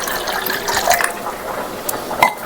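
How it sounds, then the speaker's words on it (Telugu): Water is poured into a small portion of tamarind pulusu, a short close trickle and splash that continues for a couple of seconds with light liquid spatter. "దీంట్లో వాటర్ యాడ్ చేసుకుంటున్నా కొంచెం"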